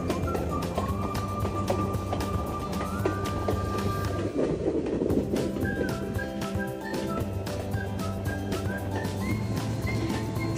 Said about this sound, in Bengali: তার মাঝখান দিয়ে আমাদের ট্রেনটি ছুটে চলেছে